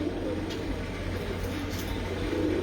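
Lalpari breeder pigeons cooing softly in a low, continuous murmur against steady background hum, with no talking.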